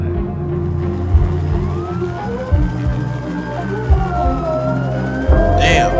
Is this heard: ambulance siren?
yes